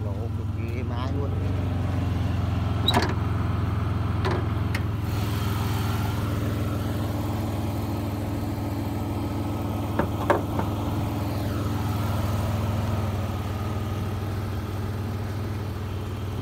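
2004 Ford Escape with a 3.0 V6 engine idling smoothly in an open engine bay, a steady low hum throughout with a few faint clicks and taps, while someone talks over it.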